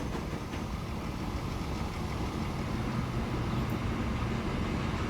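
A train engine in Transport Fever drones at a steady, low, even level with no breaks, a continuous rumbling hum heard alone.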